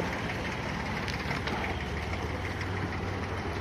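A boat's engine idles steadily after the boat has come to a stop on a Bur Dubai harbour tour, a continuous low rumble with a constant, even level throughout and no talk.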